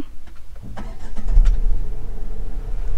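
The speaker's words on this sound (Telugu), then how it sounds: "ఇంజన్ని ఆన్ చేస్తున్నా." A Tata Punch car engine cranks briefly and catches, settling into a loud, close idle hum.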